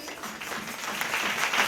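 A church congregation breaking into applause, scattered claps quickly building into a fuller round that grows louder over a short burst.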